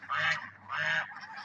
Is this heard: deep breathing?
no